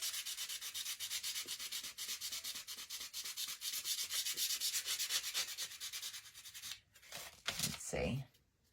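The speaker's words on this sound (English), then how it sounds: "going to give this a sanding" Hand sanding of a wooden pallet board for a Dollar Tree sign, a steady close scratchy rasp of sandpaper in rapid back-and-forth strokes that stops near the end, followed by a few brief handling knocks.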